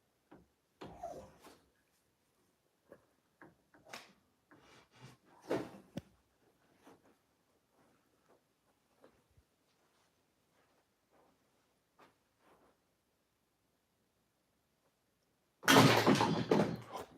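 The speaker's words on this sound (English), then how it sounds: "It literally sounds like a door creaking." Door creaking indoors: faint, sparse knocks and scrapes come first, then a quiet stretch, and a sudden loud, harsh burst of noise closes the clip.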